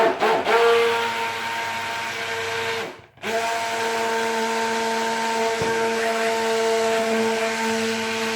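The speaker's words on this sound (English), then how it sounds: "when I put my stick blender in, I pushed it down a couple of times. Hear that sound?" An electric stick blender whirs loudly and steadily while mixing cold process soap batter, its motor whine cutting out briefly once and then resuming at an even pitch under a thin mechanical hum.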